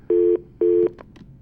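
Telephone tones sound as a caller places a call into a talk show: two steady, clear beeps of equal length, separated by a short gap, followed by a faint trailing tone.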